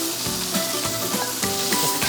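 Sausage and cured pork meat frying in foaming butter over medium-high heat, a close steady sizzle broken by sharp crackles and spits.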